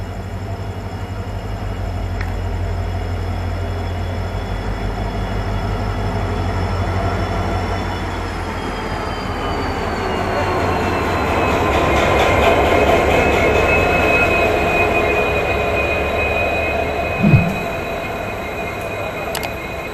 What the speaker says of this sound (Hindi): मैं आपको दिखाता हूँ अब ट्रेन का अराइवल